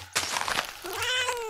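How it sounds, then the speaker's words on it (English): A cat meows in modded Minecraft (Mo' Creatures mod), a drawn-out game-creature cry with a sharp onset, then a second rising, tonal meow, loud and close with no talk. "This is a cat."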